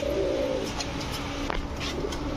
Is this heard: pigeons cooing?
yes